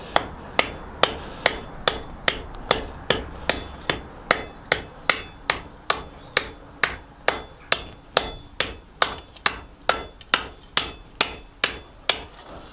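A hammer strikes hot metal on an anvil while a medieval spearhead is forged, a steady run of sharp ringing blows about two per second, close and loud with no talk.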